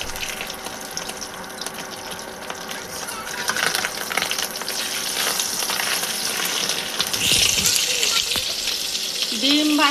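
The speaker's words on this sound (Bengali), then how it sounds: "ডিম ভাজতেছি" Eggs fry in a pan for a Dinajpur-style potato, lentil and egg curry, a busy continuous crackle and sizzle that grows louder midway, with faint stirring and a voice in the background.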